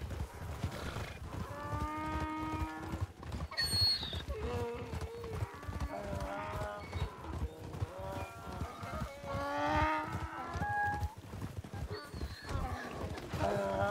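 Donkeys in the RedM Western role-play game give repeated harsh, drawn-out braying calls with pauses between them, over a low background of hooves and movement, fairly close and loud.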